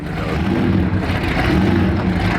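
Supercharged 800 hp big-block Camaro engine idling in a garage, a loud, steady low rumble with a lumpy lope that runs without a break, close by.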